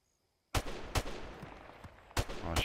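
Video game gunfire from Modern Warfare Remastered: after a brief silence, a sudden burst of sharp shots starts with loud cracks recurring at intervals over a sustained rumbling, reverberant tail.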